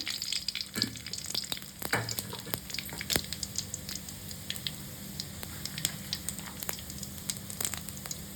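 Quiet, steady sizzling of cumin seeds frying in hot oil, with occasional crackles and a few soft clinks over a low background hiss.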